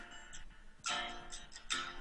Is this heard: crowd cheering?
no